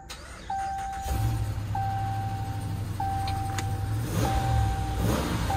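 A Chevrolet Equinox at an auto auction cranks and its engine starts, settling into a steady idle rumble while a repeating warning chime beeps about every second in the cabin.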